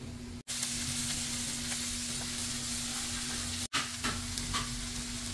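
Eggplant frying in a covered pan makes a steady close sizzle with a faint hum underneath, broken by two brief gaps and a few light clinks.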